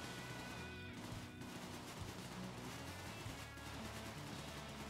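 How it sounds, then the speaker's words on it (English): A Tommy gun fires in the video game Dead Bolt, a loud continuous rattle of gunfire with crashing impacts, steady and close without pause. "Tommy gun! Now we're talking my language, mate!"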